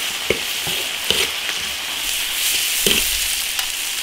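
Ginger, garlic and spicy chili paste stir-fried in hot oil in an iron wok sizzle steadily, with a spatula scraping and clacking against the metal at irregular moments.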